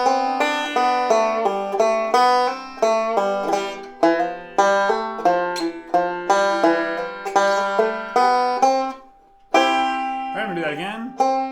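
Banjo playing the last line of the fiddle tune Whiskey Before Breakfast, bright plucked notes in a quick steady picking rhythm, with a short pause before a final strummed chord.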